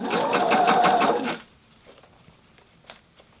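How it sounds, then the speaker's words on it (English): A sewing machine stitches a jacket sleeve slit in a fast, even run of needle strokes lasting about a second and a half, close and loud, then stops and leaves faint handling clicks. "I'm folding that over and stitching and laying and just covering the"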